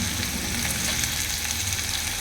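Onion and asafoetida fry in oil in a village kitchen, producing a dense, steady sizzle close by with soft stirring underneath.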